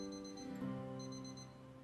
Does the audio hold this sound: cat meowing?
no